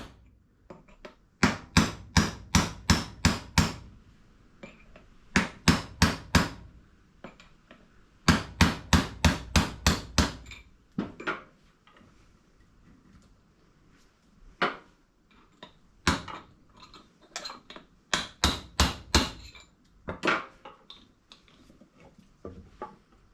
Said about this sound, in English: I'll support the piston with some timber while I drive the gudgeon pin out with a punch so I don't damage the big end bearing